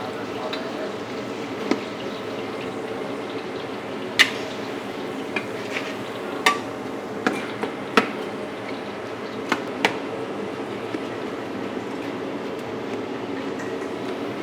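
Chicken pieces frying in a pan of hot oil give a steady broadband sizzle, broken by scattered sharp pops and crackles throughout.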